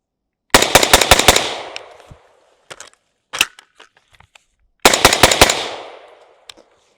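Taran Tactical V7 pistol fired with a Huxworks suppressor: a loud, close string of rapid shots, then a few scattered single shots, then another fast volley, each burst trailing off into echo.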